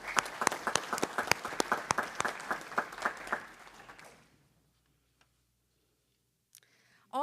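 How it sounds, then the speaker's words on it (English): Scattered applause from a small audience at a Martin County school board meeting, distinct claps in an irregular rhythm for about four seconds before fading out to near silence, with a brief voice at the very end. "Let's give ourselves a round of applause."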